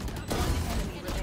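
Rapid gunfire from the video game Valorant during a tournament match, a dense burst of shots lasting about a second with a voice briefly over it.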